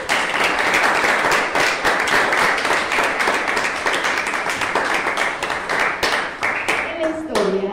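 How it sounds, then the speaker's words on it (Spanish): Dense, steady applause from a crowd, sustained throughout with many overlapping claps and a brief tonal voice near the end. "pero que se sienta el aplauso, Homero."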